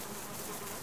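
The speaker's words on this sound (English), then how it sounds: "I'll take the bees up here" Bees buzzing around a wild honey hive outdoors, a dense, continuous droning hum, close and steady, with no pauses.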